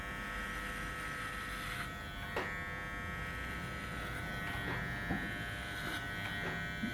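A Wahl Legend electric hair clipper runs with a steady close motor buzz while cutting hair during a fade, holding an even hum for the whole stretch with small blips where the blade moves through the hair.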